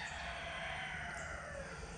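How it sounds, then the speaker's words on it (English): Chickens and roosters crow and cluck in the background of a summer garden, a steady busy layer of fowl calls with no one speaking. "you'll have to forgive the chickens and roosters in the background"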